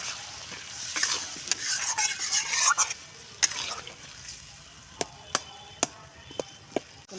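Green peas and paneer being stirred into spiced oil in a pan, sizzling and scraping under a spatula, then a run of sharp single clinks against the pan, no talk.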